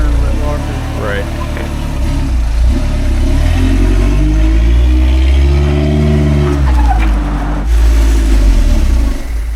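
A $6,500 car with a spool in the rear and a locker in the front runs loud and close, its engine revving up and down in rising and falling sweeps over a steady rumble, with people talking over it.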